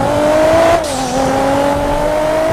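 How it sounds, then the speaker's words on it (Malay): A car in the game GTA V drives with a steady engine tone that holds a constant pitch, then drops briefly as if shifting gear and climbs back, loud and close, with no talk over it. "Eh dah lama tak bawa kereta ni bang"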